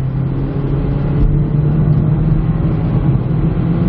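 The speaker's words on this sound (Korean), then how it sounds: "노면 소음이 굉장히 큽니다." Steady, loud road noise fills a moving Kia Niro, a broad rumble and hiss with a low engine drone that swells slightly as it speeds up.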